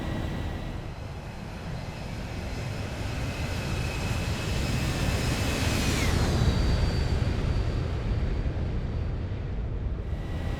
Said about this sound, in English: Airplane is starting to accelerate now.